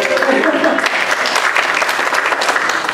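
Audience applause at a Science of Mind gathering, a dense, loud, continuous burst of clapping from a room full of people, lasting a few seconds with no speech over it.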